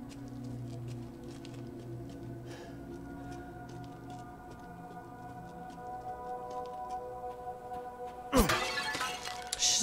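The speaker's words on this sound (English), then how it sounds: "She's not hearing me smashing her house up" Objects smash inside a house in Resident Evil Village, a sudden loud crash of breaking material late on, following a stretch of quieter ambient hum and light ticking.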